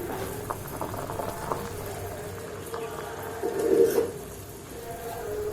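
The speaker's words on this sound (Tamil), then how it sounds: "கொதிச்சு மேல வரைக்கும் வருது பாருங்க" China grass jelly syrup bubbling as it boils up in a pot, a soft continuous simmer with faint pops and a brief louder surge of bubbling partway through, close and fairly quiet.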